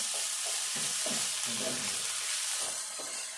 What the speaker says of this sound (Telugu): ఇది కొద్దిసేపు మంచిగా వేగాలి